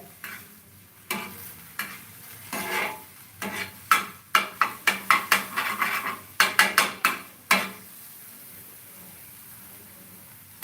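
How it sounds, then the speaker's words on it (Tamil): Egg kalakki being stirred in a frying pan, a sizzling base with a series of sharp metallic scraping and clinking strokes that quicken into a rapid cluster near the middle before fading to a soft sizzle. "இதை வந்து கலக்கணும் இது கலக்கியா பண்ணணும்"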